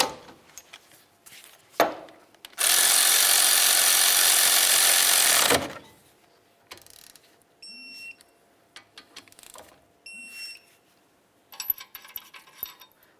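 A loud, steady mechanical whir of a power tool runs for about three seconds while caliper slider bolts are tightened on the front brakes of a 1998-2003 Toyota Solara. Short metallic taps, clicks and a few faint beeps follow.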